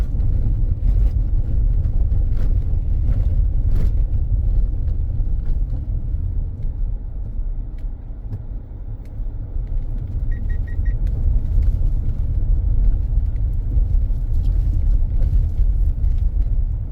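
A car driving through bush in St. Philip, Barbados, makes a loud, steady engine and road rumble throughout, with occasional light knocks.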